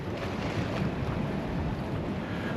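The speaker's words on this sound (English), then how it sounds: "I just saw some big waves crashing against the other side" Stormy sea waves crashing along the Paphos sea front, heard as a continuous broad wash of surf mixed with heavy wind buffeting the microphone, steady and fairly loud with no talking.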